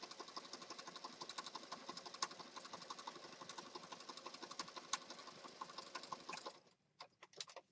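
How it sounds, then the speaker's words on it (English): Sewing machine stitching fabric at a fast steady rhythm, a close rapid whirring chatter that stops near the end, leaving a few sparse clicks. "I hardly ever change my needle. And we're just going to stitch. I stitch fast, unless it's a difficult material."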